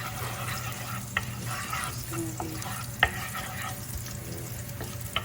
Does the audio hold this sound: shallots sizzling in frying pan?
yes